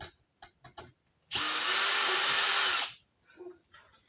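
A power drill whirs for about a second and a half while unscrewing screws during a home fire alarm installation, a loud, steady high-pitched motor whine that starts and stops abruptly, framed by soft handling clicks before and after.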